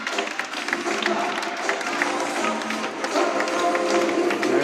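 Supporters in the stands applaud the Balonmán Cangas handball team at a youth final-four tournament, sustained crowd clapping and cheering that echoes around an indoor sports hall.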